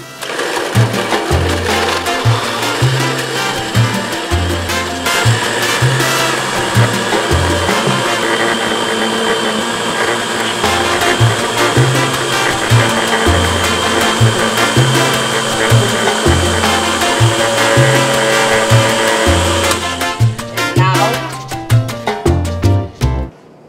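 A kitchen blender whirs loudly and continuously while blending cassava juice, its motor pulsing in rhythmic surges before winding down with a few clattering stops near the end.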